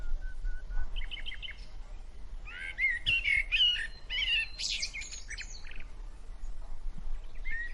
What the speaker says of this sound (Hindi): पक्षियों की चहचहाहट और ठंडी हवा उसे रोमांचित कर रही थी।